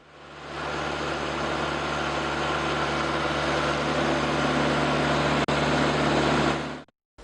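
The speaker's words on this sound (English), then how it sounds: "a borehole drilling machine which he built from scratch" Engine of a homemade borehole drilling rig built from scratch, running steadily and loudly with a low droning hum and broadband mechanical noise for several seconds before cutting off abruptly near the end.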